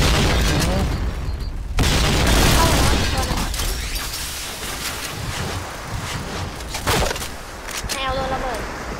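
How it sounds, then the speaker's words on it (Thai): Explosions in the online shooter Point Blank during a clan match, loud booms and bursts of gunfire-like noise spread across a dense mix, with people talking over the action throughout. "โอ้ยระเบิด"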